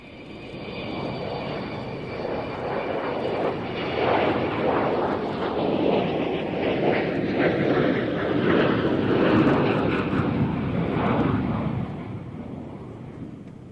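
At an airfield, the Avro Vulcan bomber's engines roar as it readies for a taxi run, a loud, sustained jet rumble that swells and holds, heard from nearby without talk.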